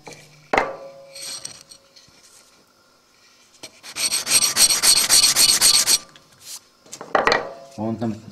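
Fine 220 grit sandpaper rasps over a folding knife part in a short two-second burst of quick strokes, framed by scattered clinks and handling knocks close by.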